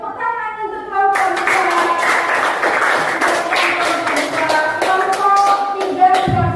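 A classroom audience claps for a student group during a teaching practice session: dense, loud, continuous applause starts suddenly after a brief spoken line and runs to the end.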